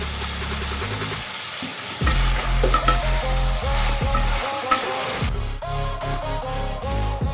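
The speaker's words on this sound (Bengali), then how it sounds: "এবার এর মধ্যে আমি দিয়ে দেবো একটা ডুমো ডুমো করে কেটে রাখা টমেটো" Diced tomato drops into hot oil in a chicken kadai dish, setting off a louder burst of sizzling partway through, followed by steady frying crackle and stirring scrapes up close, with no voices.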